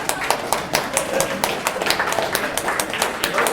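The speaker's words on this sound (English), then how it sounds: "Mostly gets that applause in Huntsville" An audience in Huntsville claps after a book is mentioned at a talk, a brief patter of many hands tapping in quick, uneven succession, fairly close and steady throughout.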